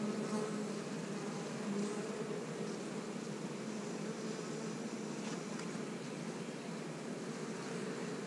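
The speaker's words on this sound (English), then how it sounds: "A lot of bees moved up and started working on these." Honey bees buzz over the frames of a hive super, a dense, even drone that stays steady and moderately faint throughout, with no talking.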